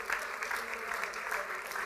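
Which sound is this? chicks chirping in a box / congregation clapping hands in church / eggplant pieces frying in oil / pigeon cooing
congregation clapping hands in church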